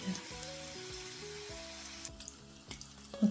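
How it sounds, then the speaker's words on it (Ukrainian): Cabbage cutlets sizzle and crackle in a hot frying pan, a steady close-up fry with scattered pops and small spatters, no voices. "Перевертаємо котлетки, а з іншої сторони смажитиму їх під кришкою, щоб вони гарно усередині просмажились."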